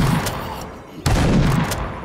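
Gunfire from zombie shooting in a homemade third-person shooter game, a short run of loud shots with a brief gap before another burst, with no talking.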